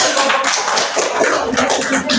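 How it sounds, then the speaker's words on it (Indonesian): Schoolchildren clapping together in a fifth-grade classroom, loud, close, fairly dense clapping with voices mixed in, running for about two seconds. "Tepuk tangan."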